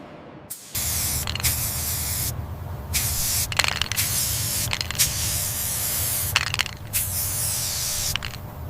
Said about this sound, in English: We use an HVLP system for the base coat